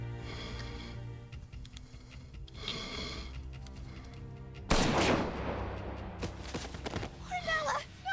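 Gunfire in the Xenoblade Chronicles X game: bursts of shots over a low musical drone, then a loud heavy volley hits midway and sustains, with scattered sharp reports after and a voice speaking briefly.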